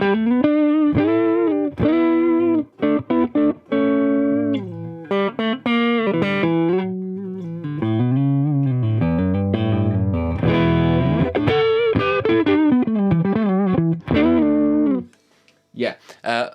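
Electric guitar played through a Harley Benton Tube15 tube amp with treble up and tone down, sustained distorted chords and melodic lines ringing loud and steady for most of the stretch, then a short pause and a final burst.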